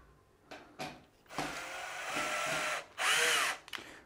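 A power drill pre-drills into solid wood, with short revving bursts that give way to a sustained whining bore and then a louder high-pitched final push, close and clear with no talking.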